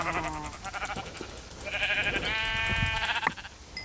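Blocky video-game sheep in Minecraft bleat several times in short nasal wavering cries, fairly close, with soft game clicks and footsteps between them.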